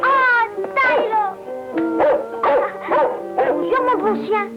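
A dog whimpers and yips in a run of high, wavering whines and short yelps, close and loud, repeating in bursts with brief gaps, with no speech.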